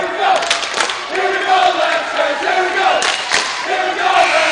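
Home crowd at a varsity girls' basketball game against McDonell, cheering and yelling loudly and steadily throughout, with brief louder surges of whoops and shouts.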